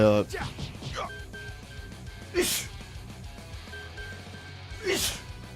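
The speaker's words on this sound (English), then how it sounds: "I hate sneezing." A streamer playing Dragon Ball: Sparking! Zero sneezes twice, two sharp bursts a few seconds apart, close and loud, with quiet game sound and talk in between.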